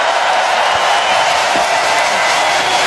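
Steady roar of a wrestling arena crowd in Manchester cheering for the Elite, a dense wash of many voices at a constant loud level throughout.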